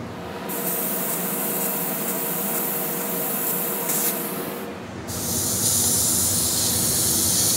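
An airbrush sprays paint onto a panel in steady, close hissing bursts, pausing briefly before resuming louder and broader, with faint handling sounds underneath.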